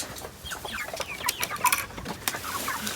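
Several meat chickens cluck and chirp nearby in a busy, scattered chorus over a constant background hiss, with no talking.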